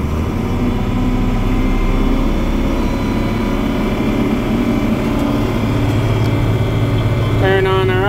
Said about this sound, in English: Rev up.